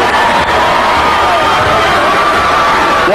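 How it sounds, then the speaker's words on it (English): A loud crowd at a 1983 high school basketball quarterfinal game roars and cheers continuously, with whoops and shouts mixed into a steady wall of noise. "The crowd is going crazy."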